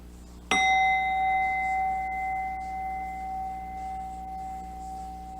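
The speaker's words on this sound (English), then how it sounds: "Alrighty, the next chime." A single bright chime is struck once during a tarot reading, ringing with a sharp attack and a long, steady sustain that fades only slowly over several seconds, heard alone with no talk.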